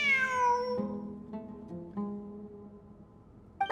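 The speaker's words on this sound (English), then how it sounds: "It really is a cat." A cat in the video game Genshin Impact gives one clear, drawn-out meow at the start, followed by a few softer, shorter mews over quiet ambient game music.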